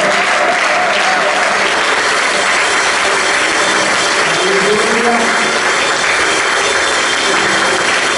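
A church congregation applauds and cheers for the Lord, loud and sustained clapping filling the room, with a few voices calling out over it.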